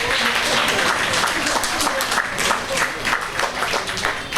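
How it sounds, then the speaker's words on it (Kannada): An audience at a yoga centre function applauds steadily for several seconds, a dense, even wash of many hands clapping at moderate loudness. "ಚಪ್ಪಾಳೆ."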